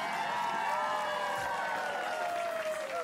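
A studio audience cheers and claps steadily at a Tiny Desk concert, a dense wash of hands and voices that holds evenly throughout at a moderate, slightly distant level.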